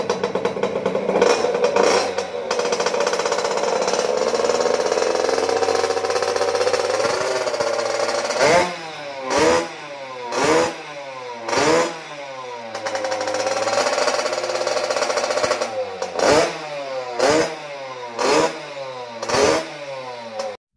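A 50cc automatic mini moto engine idling loudly up close, then revved in a series of sharp, repeated throttle blips that rise and fall in quick bursts.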